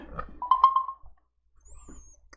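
A mobile phone notification, a short two-tone rising chime heard faintly and high-pitched near the end, following a brief tonal buzz, in a quiet room with little else going on.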